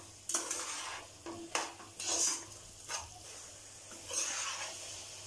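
Soybean chunks are sautéed in a pan for biryani, with a spatula scraping and stirring in several quick strokes over a faint sizzle, close and fairly quiet, without talk.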